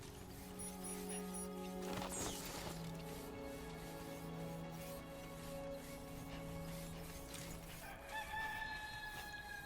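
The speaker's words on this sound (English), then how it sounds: "Why did I just hear a chicken?" A rooster crows at sunrise in the video game Death Stranding 2, a clear call rising over a steady ambient game hum, with a few clucks and a later bright tone.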